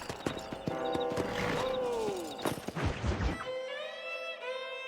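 Horse hooves clip-clopping in the video game Red Dead Redemption, a steady run of close hoofbeats mixed with game effects and a neigh-like sweep, before it cuts to quieter tonal game sound.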